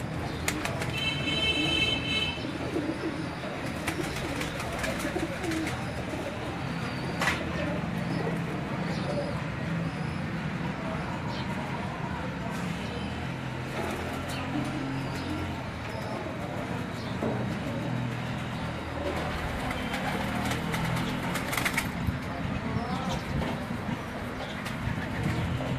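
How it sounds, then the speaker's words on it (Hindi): Heera Lal breed pigeons coo in a loft, soft repeated cooing among a steady background of bird sounds and ambient noise, moderately close. "हीरा लाल ब्रीड का कबूतर जो है ये आपको दिखाया जा रहा है"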